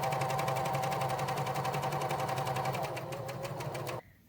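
A sewing machine topstitches a corduroy coin pocket onto a pocket insert for a pair of pants, a fast, even mechanical clatter that runs close and steady, then slows slightly before stopping abruptly.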